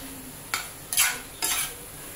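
Food frying in a pan over a low flame, heard as three short bursts of sizzling and stirring scrapes separated by quiet pauses, fairly soft and close with no voices.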